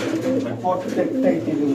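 Giribaz pigeons coo in low, rolling murmurs that run steadily through the moment, fairly close, with a faint voice mixed in.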